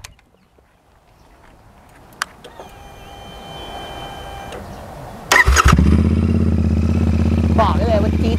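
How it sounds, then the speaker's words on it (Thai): A Royal Enfield Interceptor 650 motorcycle with a custom aftermarket exhaust is started after some faint clicks. The engine catches with a sudden bark, then settles into a loud, steady, deep rumbling idle heard up close. "เดี๋ยวเราฟังเสียงท่อกันนิดนึง"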